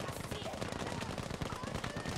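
Rapid automatic gunfire in a Battlefield 5 Conquest multiplayer match on the Marita map, dense and continuous bursts crowding the whole stretch, with a voice faintly present underneath.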